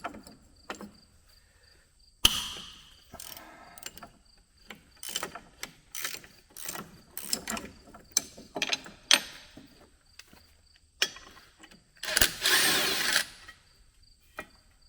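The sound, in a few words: wrenches and power tools disassembling Case IH corn head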